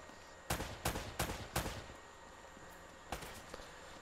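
Gunfire in the video game Uncharted: Drake's Fortune: four sharp, fairly quiet shots in quick succession, a pause, then two more scattered cracks over a hushed background.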